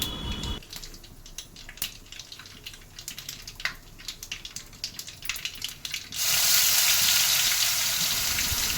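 A coarse paste of onion and green chilli, ground for a village-style mud crab curry, frying in oil: after a short start, a sizzle crackles with irregular spits and pops, then swells into a loud, steady hiss near the end, with no talking.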